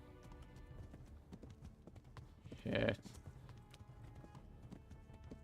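Horse hooves clip-clop steadily under a busy game soundscape while riding in the medieval game Kingdom Come: Deliverance; a single sharp loud burst cuts in near the middle, and a voice swears briefly.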